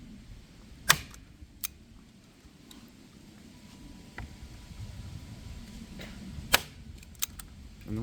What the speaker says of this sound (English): I'm gonna take a little staple gun like that.